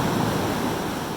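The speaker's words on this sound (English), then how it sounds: "So we are being bombarded by waves right now" Ocean waves crashing at a beach cave entrance, a dense, steady roar of surf and rushing water, loud and close, mixed with some wind buffeting and no talking.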